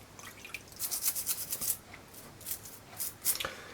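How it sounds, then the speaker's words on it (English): A small brush scrubs the nipples of a Uberti 1851 Colt Navy revolver in quick, close, bristly strokes, bursts of crisp scratching in an uneven rhythm, faint and alone with no talking. "Just a quick rub with the brush."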